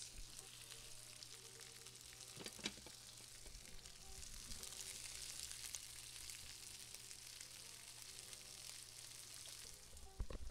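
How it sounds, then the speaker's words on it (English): Beef sizzles steadily in a hot pan, a constant crackling hiss with occasional sharper pops and a faint clink of utensils. "Now you can hear the sizzles, right? Listen to those sizzles."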